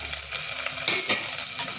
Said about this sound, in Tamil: தக்காளியும் ரொம்ப நேரம் வதக்க வேணாம் கொஞ்சம் நேரம் வதக்கினா போதும்